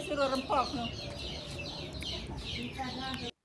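Chickens in Lombok, Indonesia cluck in short, repeated bursts close by, several birds chattering over one another against a faint outdoor background.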